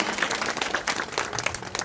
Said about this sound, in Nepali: उहाँलाई सम्झनामा एकचोटि सबैले ताली बजाइदिनु होला।